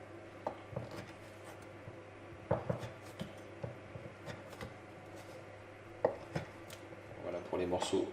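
A knife chops leftover raclette cheese scraps on a board, with quiet, sparse taps that come in small irregular clusters against a hushed kitchen background.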